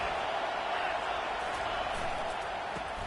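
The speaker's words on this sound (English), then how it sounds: "Listen to the crowd energy here in the early going." Football stadium crowd at an Auburn versus Florida game, a steady broad roar of thousands of fans that holds evenly throughout without distinct cheers.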